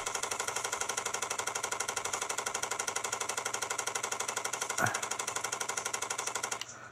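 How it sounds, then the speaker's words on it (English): Rapid, steady machine-gun fire from a gun mowing down vegetation in the video game Far Cry 2, a relentless loud mechanical rattle that runs continuously for several seconds before cutting off near the end. "let's use the machine gun. And let's mow down some vegetation."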